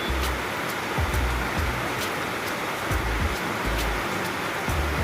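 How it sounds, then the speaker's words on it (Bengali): Light drizzling rain outdoors, a constant close, soft hiss with occasional faint drips and low rumbles beneath; no one speaks. "তারপরে এখন শুরু হলো রিমঝিম বৃষ্টি।"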